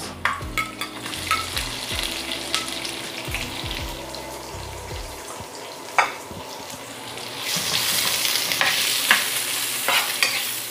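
Garlic and onion sauté in a pan, sizzling steadily under repeated scraping and stirring, then running tap water rises near the end.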